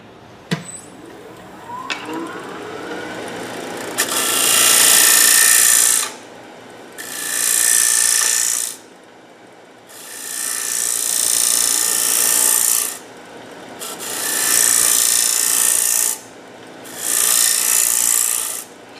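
A bowl gouge cutting wood on a lathe while turning a winged bowl, heard as five loud, close rasping passes of a few seconds each, separated by quieter gaps where the lathe hums.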